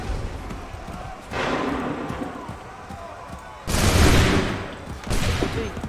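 Musket volleys ring out in Assassin's Creed III, with three loud, broad bursts of massed gunfire, each lasting about a second, set against a background of battlefield noise.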